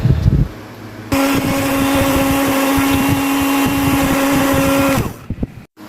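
Kitchen blender grinding dry cat food into powder, a loud steady motor whine with a rattling, gritty texture for about four seconds before stopping.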